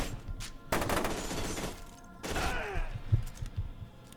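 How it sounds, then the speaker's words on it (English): Bursts of submachine gun fire in the shooter game F.E.A.R. 2, two sharp volleys of rapid shots with gaps between them, loud and close, followed by thuds and faint game noise. "then just shoot them with your simple but powerful submachine gun"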